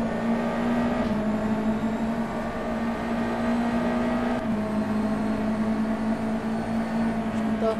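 A USF 2000 race car engine in rFactor 2 at the Adelaide circuit holds a steady, loud whining drone at near-constant revs, with a brief dip and shift in pitch partway through.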